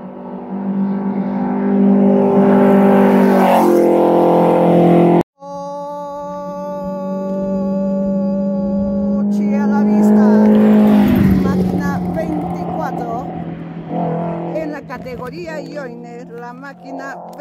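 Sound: rally car number 24 passing by

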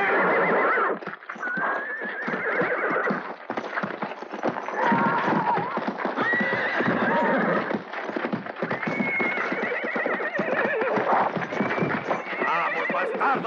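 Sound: horses galloping and neighing

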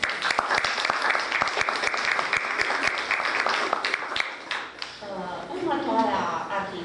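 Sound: applause at a painting exhibition opening

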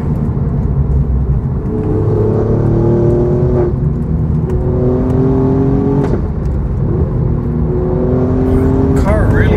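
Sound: Alfa Romeo Giulia Quadrifoglio engine revving with sharp shift blips

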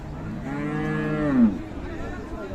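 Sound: cow mooing at cattle market

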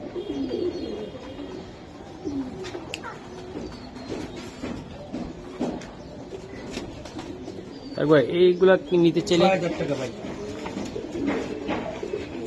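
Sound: racing Giribaz pigeons cooing

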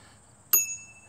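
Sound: standard bicycle bell ringing

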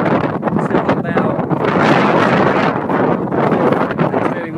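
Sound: strong wind on microphone

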